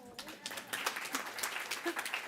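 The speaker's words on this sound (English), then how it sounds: "I think we need to give you a round of applause" Audience applause at a grant writing workshop, a steady soft patter of clapping throughout, fairly faint, with talking mixed in over it.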